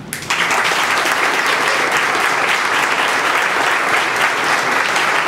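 Audience applause at an award ceremony honoring a chronicler and historian, a loud, dense wash of clapping from a large crowd that swells in and holds steady throughout.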